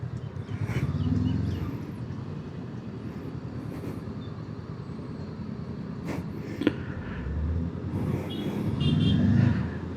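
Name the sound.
road traffic in a traffic jam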